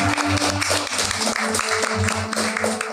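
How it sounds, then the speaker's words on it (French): Live audience applause at a Dungeons & Dragons game show, a dense, steady wash of clapping that fills the whole clip over a rhythmic musical backdrop, with no talking. "Une bonne main d'applaudissement pour Ouvre Moutarde."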